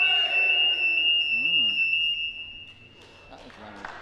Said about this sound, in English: Buzzer will go in a moment.